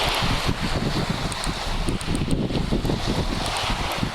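Wind sweeps across the beach at Les Aresquiers during surfcasting for sea bream, a steady rough roar with gusts buffeting the microphone, continuous and close, with no one talking.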